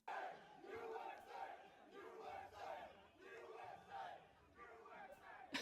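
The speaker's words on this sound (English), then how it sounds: "We had the entire crowd chanting USA mid-game." A whole arena crowd chants USA in unison mid-game, a loud rhythmic chant of massed voices that rises and falls in repeated bursts throughout.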